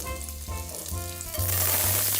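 Olive oil sizzles and crackles steadily in a very hot pan, close and fairly loud, building slightly toward the end with no talking.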